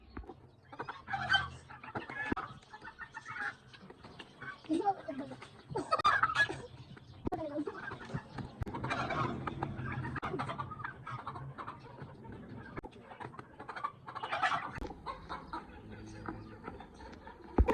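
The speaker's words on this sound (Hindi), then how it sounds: "ये हमारा मुर्गा छोड़ दिया" A loose rooster clucks in short bursts, nearby and scattered, while people talk over it with some rustling and movement.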